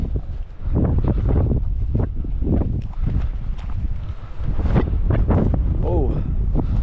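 Strong wind roars and buffets the microphone during a climb up a steep hillside, a constant heavy rumble with gusts, while a person talks over it.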